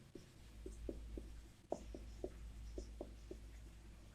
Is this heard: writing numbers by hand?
yes